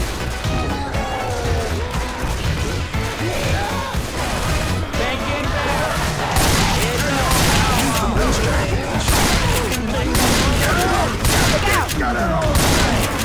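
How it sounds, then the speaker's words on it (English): Loud, dense gunfire in the zombie shooter Left 4 Dead, a near-continuous barrage of shots and booms lasting throughout, with game voices mixed underneath. "Something's shooting!"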